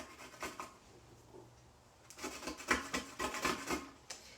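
Fresh turmeric root rasped by hand against a grater, a run of short scraping strokes, close and moderately quiet, with a sparser start and denser rhythmic rubbing in the second half.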